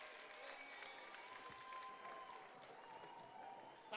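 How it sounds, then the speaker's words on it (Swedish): Faint, distant applause from the crowd at the Kingsizegalan awards gala, a soft continuous wash of many hands clapping that holds steady throughout. "ge dem en applåd"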